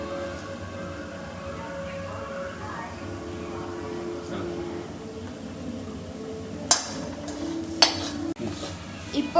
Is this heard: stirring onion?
yes